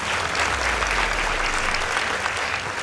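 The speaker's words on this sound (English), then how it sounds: "Kindly give them a round of applause." Steady, dense applause from the audience at a school debate knockout between Light Academy Mombasa and Mbooni Girls, a continuous wash of many hands clapping at even loudness throughout.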